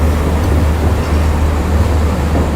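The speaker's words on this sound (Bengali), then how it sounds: "এই যে ট্রেন ছেড়ে দিল।" Steady low rumble of a train pulling away from a station in Sri Lanka, a continuous heavy mechanical drone with no voices, close and fairly loud throughout.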